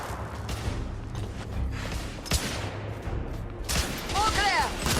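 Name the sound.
suppressive gunfire in video game The Order 1886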